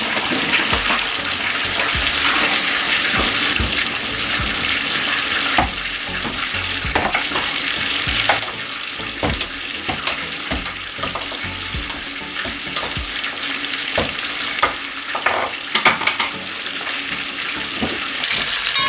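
Chicken pieces fry in hot oil for fricassee, a loud continuous sizzle over nearly twenty seconds, broken by occasional clinks and stirring knocks close by with no talking.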